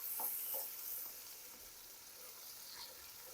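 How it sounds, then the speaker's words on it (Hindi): Garlic ginger paste frying in ghee, a steady close sizzle with soft crackles and occasional stirring scrapes, heard alone without talk. "अब लहसुन अदरक के पेस्ट को ब्राउन करूंगा"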